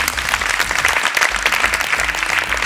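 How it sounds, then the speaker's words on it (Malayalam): A studio audience on a Malayalam television show claps steadily, a dense, loud wash of applause that holds evenly for a few seconds with no voices over it. "ഈ കൈയടി നമ്മുടെ മലയാളി വീട്ടമ്മയ്ക്കാണ്"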